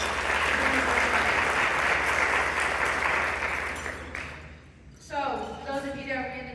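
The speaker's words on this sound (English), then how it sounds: "give yourselves a round of applause for Women's Council" Audience at a Women's Council of REALTORS Texas winter meeting luncheon breaking into sustained, dense applause that swells then fades, followed by a voice resuming speech.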